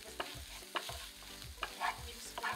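Spiced mixture of ground coriander-cumin, red chilli and green chilli paste being stirred in a frying pan, with rhythmic scraping strokes about every half second over a faint sizzle, close and quiet, no speech.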